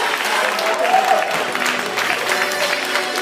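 An audience at an improv match claps for a team player, a loud continuous wash of applause with some crowd voices mixed in.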